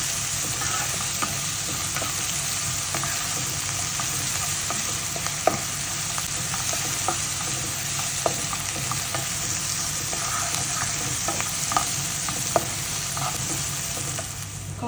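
Onions being stirred and sautéed with salt in a pan for ivy gourd stir fry, a steady frying sizzle broken by frequent small clicks and scrapes of the spoon against the pan.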